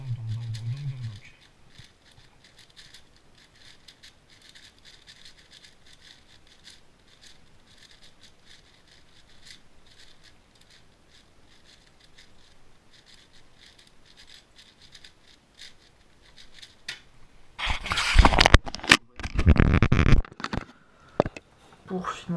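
A 6x6 Rubik's cube being scrambled: after a long near-silent stretch, a burst of quick plastic clicks and rattling twists erupts close by near the end, in loose irregular clusters.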